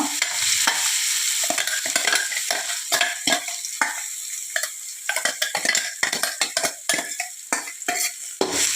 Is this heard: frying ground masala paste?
yes